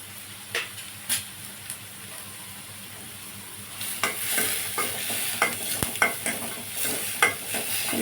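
Onions fry in butter in a pan for a dhaba-style paneer curry, a steady loud sizzle with a spoon stirring and scraping in several close strokes.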